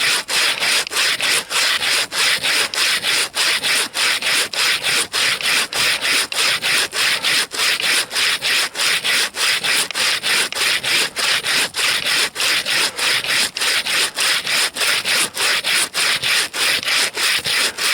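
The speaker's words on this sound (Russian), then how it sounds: "полотно лужковой пилы делает свое дело." A bow saw cuts through frozen wood in deep taiga cold, its blade rasping in a steady back-and-forth rhythm of about two strokes per second, loud and close, with no talking.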